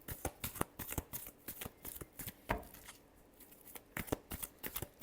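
Tarot cards are shuffled close by in quick, crisp riffles and flicks that come in rapid bursts, with a short pause midway, all fairly quiet.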